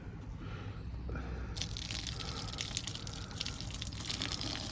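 Dirty water pours and splashes down an outside drain, a continuous faint gushing and trickling that turns brighter and hissier partway through.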